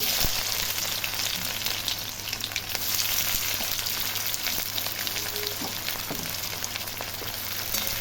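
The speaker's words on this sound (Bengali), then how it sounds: "পেঁয়াজগুলো সব ভাজা ভাজা হয়ে গেছে" Onions fry in oil with whole garam masala (cardamom, cinnamon, cloves) for a Bengali duck curry, producing a dense, continuous close sizzle with faint stirring scrapes and no talking.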